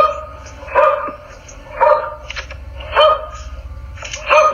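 A dog barks in spaced single barks, about once a second, loud and near, over a low steady background rumble.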